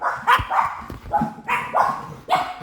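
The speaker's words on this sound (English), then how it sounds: "I'll let the dogs bark." Dogs bark close by in a quick series of sharp, loud barks and yips, about six in under three seconds, with no talk.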